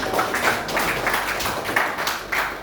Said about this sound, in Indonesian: kasih tepuk tangan buat aku ya